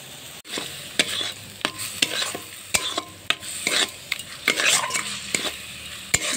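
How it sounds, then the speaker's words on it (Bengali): Onion-ginger spice paste for a fish curry sautéing and sizzling in a pan, with a spoon stirring and scraping in repeated sharp strokes over a steady fry, close and fairly loud. "মশলাটা এরকম কষানো হয়ে গেছে,"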